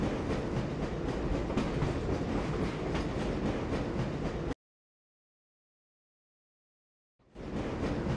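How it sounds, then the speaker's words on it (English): Rumbling tram ride through the Black Mesa facility in Half-Life: Source, steady wheel and rail noise for several seconds, then a cut to complete silence before the rolling rumble returns. "This train is inbound from Level 3 dormitories to Sector C test labs and control facilities."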